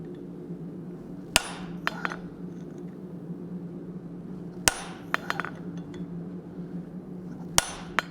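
A hammer strikes hot steel on an anvil to part a hot cut hardy off bar stock, with three sharp, ringing blows spaced a few seconds apart, each followed by lighter clinking taps.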